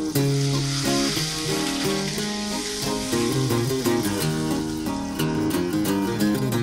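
Potatoes fried earlier sizzle steadily in a pan of hot oil for a Bengali potol curry, with constant crackle throughout and a tonal, music-like layer underneath.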